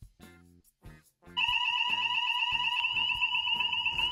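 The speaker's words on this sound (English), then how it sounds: "I don't know why we've just had another fire alarm." A fire alarm at a boarding school starts abruptly and keeps up a loud, continuous electronic tone, steady and piercing, after a few seconds of quieter talk and movement indoors.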